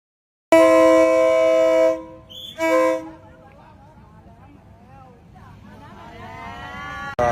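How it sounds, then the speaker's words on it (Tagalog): A loud, sustained train horn blast, then a second shorter honk, followed by a lower rumble of a passing train that gradually builds, heard near a floating market. "Ayan na yung tren, no?"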